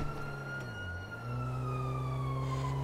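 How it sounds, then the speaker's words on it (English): Police sirens wailing in the game GTA V, a steady, slowly gliding siren tone over a low engine hum, heard alone and fairly distant. "Where are those sirens coming from? I think they're coming from further off to the east."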